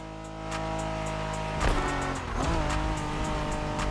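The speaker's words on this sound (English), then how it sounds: "Are you familiar with the Honda you're driving?" A Honda NSX engine drones steadily at high revs in The Crew Motorfest video game, then tires squeal and the motor surges in a racing run, with no voices.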